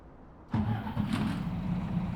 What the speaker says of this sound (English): So let's try and start this vehicle.